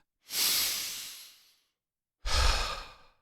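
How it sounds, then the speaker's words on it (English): Two slow, deliberate breaths sound close and alone: a long airy exhale fading out, a pause of silence, then a second fuller breath. "So breathe."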